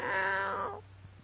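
A black cat gives a single close, loud meow that falls in pitch and fades out after under a second, followed by quiet.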